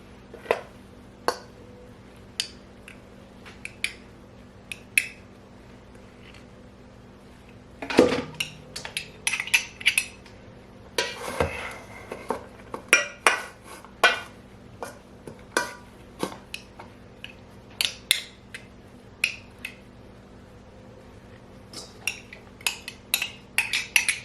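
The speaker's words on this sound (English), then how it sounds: "So I just switched the bowls over, but now I'm going to measure out 2 cups of the zucchini." Kitchen clatter of bowls being swapped and measuring cups scooping shredded zucchini for chocolate zucchini muffins: repeated close clinks and knocks of dishes and utensils in an irregular rhythm, with a louder flurry of handling partway through and no talking.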